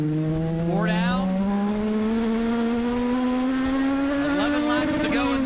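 Race cars at speed on Charlotte Motor Speedway during a Summer Shootout race, a loud, steady engine roar with pitch rising as the pack drives past, continuous throughout under faint commentary.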